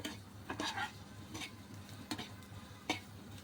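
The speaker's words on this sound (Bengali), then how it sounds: "রেখেই মশলাটা ভেজে নেব" Spices and onion frying gently in a pan over a low gas flame, a soft steady sizzle broken by a few sharp stirring scrapes and clinks of a utensil against the pan.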